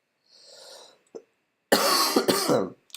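A brief throat sound is followed by a couple of harsh, loud coughs close to the microphone, separated by moments of silence.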